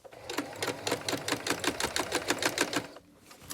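A sewing machine edge stitching along a waistband, running in a fast, steady rhythmic patter of close stitching pulses that stops abruptly near the end.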